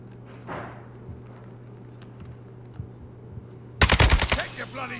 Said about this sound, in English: I'm hearing bullets flying by my head